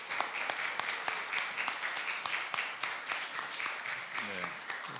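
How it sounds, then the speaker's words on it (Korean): A church congregation claps in welcome as a guest pastor comes forward, a steady, dense round of applause that lasts the whole stretch, with a brief voice near the end. "우리 강사 목사님 나오실 때 큰 환영의 박수 부탁드리겠습니다."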